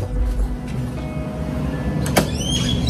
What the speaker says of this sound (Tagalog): Lock na yung pinto natin dito.